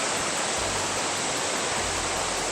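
Huay To Waterfall, a multi-tier waterfall in Krabi, Thailand, with five major tiers, roars as a dense, steady rush of falling water that fills the scene without a break.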